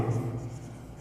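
Brief scratchy strokes of writing on a board during a Class 9 geometry lesson on lines and angles, lasting about a second and fairly quiet.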